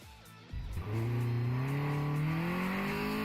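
A racing-game car revs on a dyno after a short starting burst, its engine pitch climbing steadily and loudly as it accelerates through the run, a smooth continuous rising drone with no talk.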